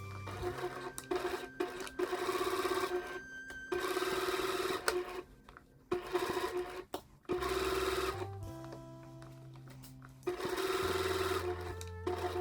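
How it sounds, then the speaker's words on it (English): A sewing machine stitches a quarter-inch seam on continuous bias tape, running in several bursts of rapid mechanical chatter separated by short pauses. "You'll sew that at 1/4 seam allowance"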